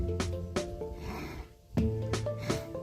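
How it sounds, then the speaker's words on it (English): A video game T-Rex sniffs and snorts in deep, rumbling breaths over a low synthetic hum, with two sharp sniffs at the start and again near the end. "Looks like he is sniffing out for food."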